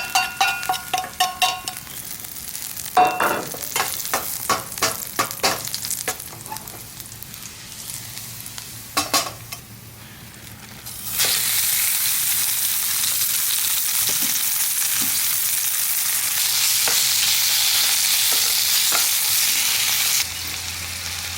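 Garlic hits the pan during a pepper steak stir-fry at a camp cooking setup: rapid rattling stirs and clanks come first, then a loud, steady sizzle surges in and holds close by until near the end, with no talking.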